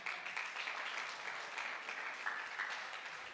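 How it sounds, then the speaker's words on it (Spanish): Church congregation applauding during a Spanish-language worship service, a steady, dense wash of clapping sustained throughout at moderate distance with no talk over it. "Démosle un fuerte aplauso al Señor"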